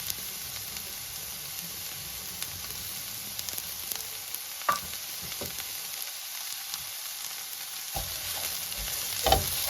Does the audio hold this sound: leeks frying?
yes